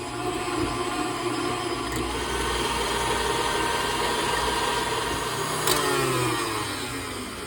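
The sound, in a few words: electric whisk mixing whipped topping on high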